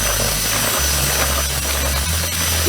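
Power drill with a mixing paddle stirring damp fishing groundbait for skimmer and bream fishing, a steady loud motor whine with slight pitch changes, close and continuous with no talking.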